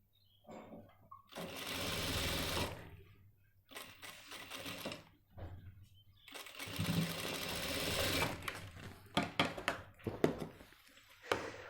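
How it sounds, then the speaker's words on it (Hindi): A sewing machine stitches the zipper and belt fabric of a men's trouser in several bursts, some long and sustained, others short and stuttering, close and fairly loud with pauses between runs. "ऐसे रख के इसके ऊपर से हम सिलाई मार देंगे"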